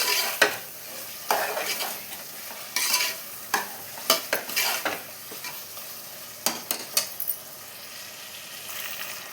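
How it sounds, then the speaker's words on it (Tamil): Half a kilo of mutton pieces frying for mutton dum biryani, stirred hard with a metal spoon, loud bursts of sizzle and scraping clanks against the pot in uneven strokes, close and with no speech. "இப்போ ஒரு 1/2 கிலோ கறி சேர்த்துக்கலாங்க."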